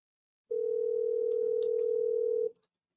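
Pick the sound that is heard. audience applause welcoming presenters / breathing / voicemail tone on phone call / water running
voicemail tone on phone call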